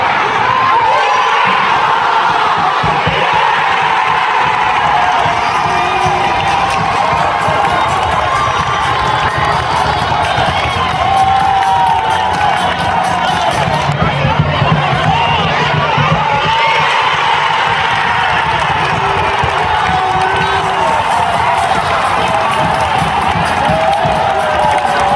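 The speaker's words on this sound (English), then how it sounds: "Everybody was chanting, clapping, fully involved." A dense stadium crowd at an Adelaide United football match cheers, shouts and chants continuously after goals, a loud roar filling the whole stretch with clapping mixed in.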